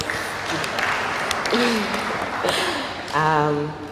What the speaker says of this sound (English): You can clap yourselves.